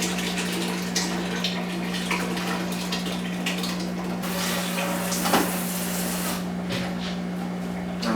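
Water pours steadily into a cooking pot while making a ginger tea for homemade ginger beer, a continuous close splashing rush with a steady low hum beneath, with no talking.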